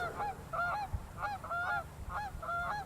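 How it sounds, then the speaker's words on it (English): Two geese honking as they fly overhead outdoors, repeated paired nasal honks in a steady rhythm, fairly loud and near over light background rustle. "Can you guys hear that goose? 2 of them, I think, flying over my head."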